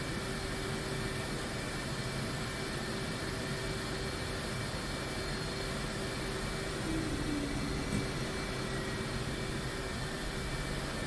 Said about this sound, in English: I'm gonna do a long ass fucking takeoff from the tail of the stern of the ship